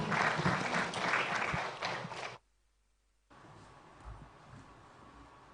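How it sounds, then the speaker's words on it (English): Audience applause for a conference panel on green affordable housing, a dense burst of clapping that fades abruptly to near silence, then resumes more faintly with a few scattered claps. "Big round of applause for my panel."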